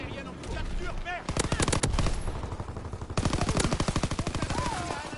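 Rapid automatic gunfire in a first-person shooter game: two dense bursts of quick repeated shots, loud and close, with short gaps between volleys and faint game ambience underneath.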